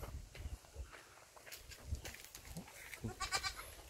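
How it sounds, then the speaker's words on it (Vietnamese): Goats in a pen on a basalt-soil fruit orchard farm in Kim Long, Chau Duc shuffle and move around, with soft scattered thumps and footsteps and faint bleats over a steady rural background. "Đây cả nuôi dê nữa này."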